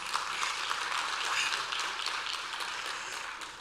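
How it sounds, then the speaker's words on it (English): Sustained round of applause from an audience at a World Food Day commemoration, steady dense clapping at moderate level without pause, no talk over it. "I wish, colleagues, we could give her a round of applause."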